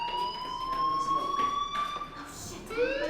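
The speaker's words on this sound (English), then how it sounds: "do you hear that fire alarm?" A fire alarm rings inside the video game Life Is Strange: a continuous electronic tone with a slight upward pitch drift, at moderate volume amid faint background noise.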